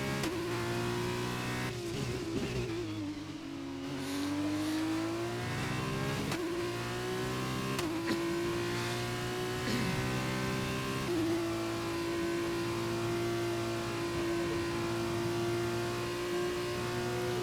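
An F2 race car engine in the F1 2021 game on the Azerbaijan circuit, holding a high, steady whine that climbs and settles through gear changes, loud and continuous with no voices.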